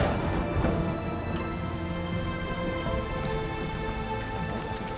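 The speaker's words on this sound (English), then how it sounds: "so it's raining, so I should be able to show you the puddles" Steady, dense rain pours throughout in Assassin's Creed Shadows, a constant wash of droplets with a faint low rumble beneath, no voices present.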